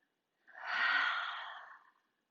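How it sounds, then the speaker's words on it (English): A single long exhale through the mouth during a morning yoga flow, rising quickly and fading over about a second and a half, airy and close, with no talking. "Inhaling through the nose. And exhale out the mouth."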